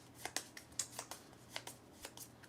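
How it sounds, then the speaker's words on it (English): A stack of game cards for the board game Lands of Evershade being shuffled, quick faint riffling snaps in an uneven rapid rhythm, close by and quiet, without talk. "You flip them over, you give them a shuffle"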